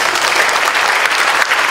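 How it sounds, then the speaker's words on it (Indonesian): A church congregation applauds in a dense, steady burst of clapping that fills the space at even loudness throughout, with no voices over it. "Tepuk tangan buat Yesus."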